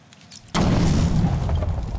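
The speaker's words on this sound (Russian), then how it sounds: "Так, и теперь взрывчатый гель, да." An explosive gel charge detonates in the video game Batman: Arkham City, a sudden loud blast after a quiet moment that rolls on as a sustained, rumbling roar.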